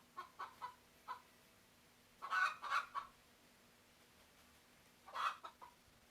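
Chickens cluck in a few short, agitated bursts, faint and somewhat distant, with quiet gaps between the calls.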